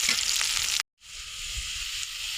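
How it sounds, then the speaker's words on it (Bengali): Onions fry in oil with a loud, crackling sizzle that cuts out briefly, then returns as a softer, steady hiss. "পেঁয়াজ দিয়ে দিয়েছি, পেঁয়াজটা একটু ভাজা ভাজা হবে তেল দিয়ে"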